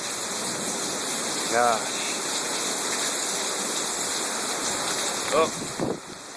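A thunderstorm in Brookhaven brings heavy rain and wind, a constant loud rushing wash of water and gusts. A man briefly exclaims twice over it.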